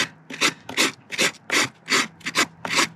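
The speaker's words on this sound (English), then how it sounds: "I've done all this with the rough side of the rasp because it's faster than the smooth side" Horse hoof worked with the rough side of a rasp, about ten distinct gritty rasping strokes in an uneven back-and-forth rhythm, close and fairly loud, with brief quiet gaps between them.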